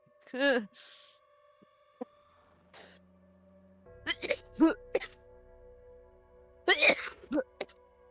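One sharp sneeze near the start, then a few quiet moments before several people start talking casually nearby.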